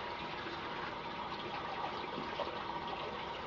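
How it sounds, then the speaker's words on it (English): Hot water runs steadily from a bathroom tap to wet a Fuller Classic shaving brush, a continuous close rushing gush with no one speaking. "hot water"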